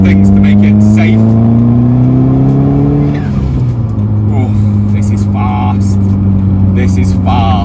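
A Nissan Pulsar GTiR drives and accelerates, its engine pitch rising steadily, dropping at a gear change, then climbing again, loud from inside the car with people talking over it.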